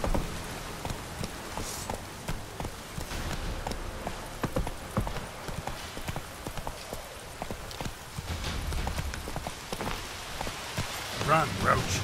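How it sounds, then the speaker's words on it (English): In The Witcher 3, rain patters steadily on the surface while a horse's hooves clip-clop along, with faint sparse character talk. "If it don't stop raining"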